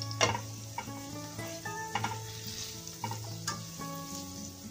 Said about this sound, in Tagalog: Gigisa lang natin siya muna.